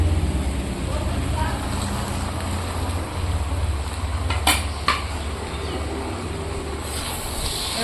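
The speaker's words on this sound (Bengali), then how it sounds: "সব কিছুর সাথে আমি ভালো করে মিশিয়ে নেবো" Spatula scraping and clinking against a pan while fried vegetables with coriander powder and sugar are stirred, soft continuous sizzle underneath with a couple of sharper metallic taps, a voice speaking throughout.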